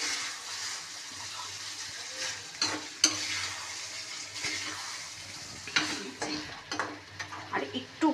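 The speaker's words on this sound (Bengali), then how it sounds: "কষানো হোক আলু টালুগুলো" Spiced potatoes are sautéed in a pan for a tangra fish curry. A continuous sizzle carries close spatula scrapes and clacks that grow busier toward the end, with no speech.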